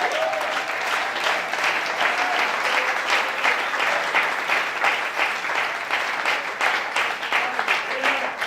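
A church congregation claps in sustained, dense applause that holds at a steady loud level throughout, with faint voices mixed into the crowd.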